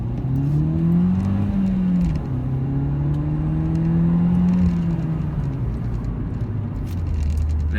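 A Peugeot 208 GTI accelerates steadily from a standstill toward 50 mph, its engine note loud and close, rising through the gears with a brief dip at each shift and no talking.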